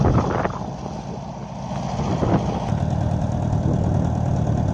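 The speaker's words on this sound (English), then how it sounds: "This Allis Chalmers D17 is quite a machine." Allis Chalmers D17 tractor engine running steadily at a low idle-like rumble, close and fairly loud, with a slight rise in level partway through and no talking.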